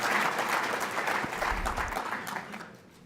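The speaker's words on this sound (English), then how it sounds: "I can only ask the audience to applaud" Audience applause at the Isokinetic Conference 2013 on football medicine, a broad, steady wash of clapping from a large crowd that holds fairly even and then slowly fades toward the end.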